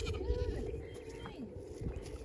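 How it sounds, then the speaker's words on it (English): Goats bleating on a farm in winter, a few overlapping calls from several animals near the fence over a steady low outdoor rumble. "There's the goats."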